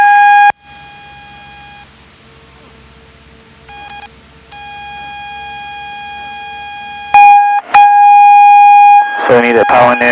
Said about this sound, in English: Why is the siren coming on that?